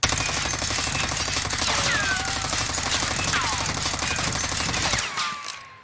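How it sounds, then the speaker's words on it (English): XM4 assault rifle in Call of Duty Warzone fires a sustained rapid burst of close, loud shots for about five seconds, then stops abruptly, leaving a fading tail. "Let's try a controlled shot."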